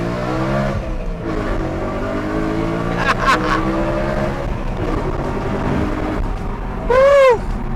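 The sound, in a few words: BMW M3 naturally aspirated V8 engine accelerating, full pull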